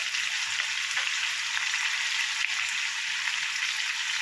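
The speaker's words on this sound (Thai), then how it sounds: "แล้วก็ใส่ผักไปครับ" A constant, bright frying sizzle of vegetables added to pork belly in a hot pan, steady throughout with a few faint clicks of stirring.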